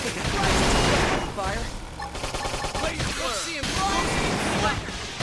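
Rapid bursts of gunfire from the video game Xenoblade Chronicles X fill the clip, dense and loud, layered with game effects and music, while a voice talks over the action.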